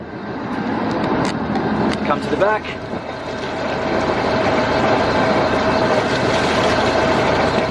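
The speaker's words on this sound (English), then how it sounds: "Start the engine first, then plug it in, then it doesn't damage anything inside" A yacht's boat engine idles in neutral inside an enclosed garage, a steady droning rumble filling the space while a person speaks briefly over it.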